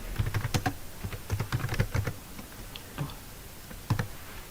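Rapid clicking on a computer keyboard as C++ code is typed: irregular bursts of close keystrokes, dense at first and then sparser, with no talk.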